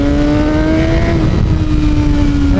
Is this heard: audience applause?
no